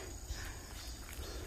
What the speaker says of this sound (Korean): 지나가는 여름 매미 소리 합창 소리가 대단합니다.